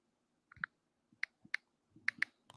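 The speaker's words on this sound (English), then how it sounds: "Bobby, we hear you typing, bro" Faint, sparse clicking of a computer keyboard being typed on, a handful of separate key taps in an irregular rhythm against quiet background.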